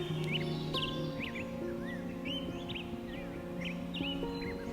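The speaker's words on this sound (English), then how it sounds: "The Swainson's thrush has returned to the forest, singing bright and boldly its unique song, which echoes so distinctly in the evenings." Bird song in a forest near a cabin, fitting a Swainson's thrush: short rising whistled phrases repeated every second or so, fairly faint against a steady low background hum.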